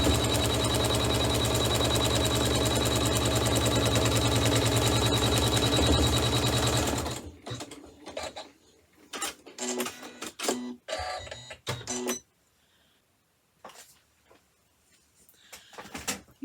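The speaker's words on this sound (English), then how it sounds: "So now it's going to stitch the placement line for piece number 4 over here on the left side." An embroidery machine stitches a placement line on a chenille hot pad, a loud continuous mechanical buzz lasting about seven seconds before stopping, followed by sporadic clicks, taps and quiet gaps.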